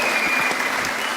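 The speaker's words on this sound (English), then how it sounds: "Give them a round of applause." Dense, even applause from a crowd, a steady wash of many hands clapping without pause, heard alone and fairly full.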